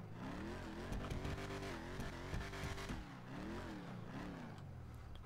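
A sports classic car engine in the video game GTA 5 revs and roars continuously, pitch climbing and dropping through gear changes, loud and close with no talking.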